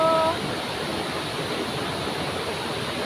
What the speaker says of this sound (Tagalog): andito ako ngayon sa pagandang, pagandang ilog